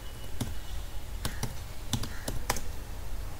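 Several sharp, separate key presses on a computer keyboard, close and clear in an irregular rhythm, with no talking.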